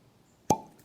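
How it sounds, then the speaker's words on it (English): A single crisp cork pop as a bottle of Wolcott Bottled-in-Bond bourbon is opened, a sharp close hollow plop with a short ringing tail, heard on its own. "That was a great cork pop."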